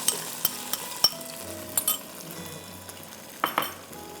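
Ingredients go into hot pomace olive oil for Schezwan chowmein, giving a low, steady sizzle close by, punctuated by clinking metal utensil taps against the pan and stirring scrapes, with no talking.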